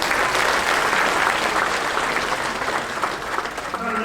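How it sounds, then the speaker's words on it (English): Sustained applause from an audience at a golf association's year-end awards celebration honoring players of the year, steady and dense throughout, with a faint voice near the end. "Another big round of applause for all of our MGA Players of the Year."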